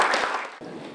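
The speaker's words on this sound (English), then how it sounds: "Let us all welcome our special guest with a big round of applause." A concert audience claps to welcome a special guest at a school ice-breaking event, a dense burst of applause that thins out abruptly halfway through the second.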